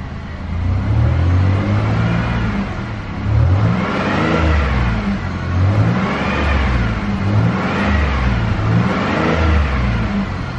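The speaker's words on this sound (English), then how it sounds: "Motor revs up fine." A 2000 Chevrolet Monte Carlo SS Pace Car engine revs up and down repeatedly, rising and falling in several steady cycles. Loud and close, with no talking.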